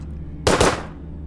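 A single gunshot sound effect: one sharp, loud close-range crack with a quick echoing burst, fading into a short tail over a low background hum.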